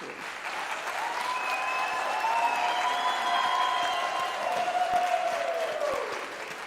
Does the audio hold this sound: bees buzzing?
no